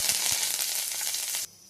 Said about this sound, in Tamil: நான் இப்போ வடகம் போட்டு எண்ணெய் போட்டு தாளிக்கிறேன்.